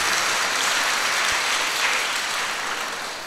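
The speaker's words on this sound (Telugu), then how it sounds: "వారందరికీ కూడా మనం గట్టిగా చప్పట్లు కొట్టి వారిని అభినందించుదాం." A crowd applauds at a Lourdes Mata festival at a cathedral in Kurnool, the clapping dense and continuous, loud and fairly close, tapering slightly toward the end.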